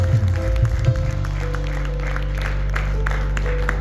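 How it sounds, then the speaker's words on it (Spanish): A church congregation claps for God during a Spanish-language evangelistic service. The applause rises over a steady low hum, fuller in the first second and then settling into a softer, even patter. "den un aplauso más fuerte a Dios"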